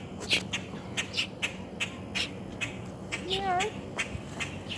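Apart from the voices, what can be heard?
crow calling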